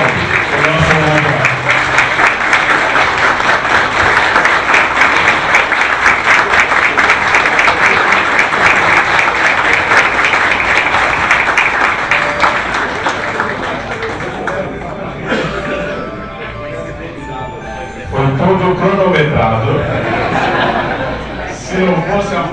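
Sustained clapping from members at a plenary session of an environmental council, loud and dense for about fifteen seconds before thinning out, with chuckles and talk surfacing as it fades.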